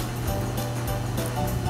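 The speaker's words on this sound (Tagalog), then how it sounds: "Ayan guys, kumukulo na yung tubig natin." Water boils hard in a pot for clam soup, a dense, close, rolling bubbling roar with no pauses.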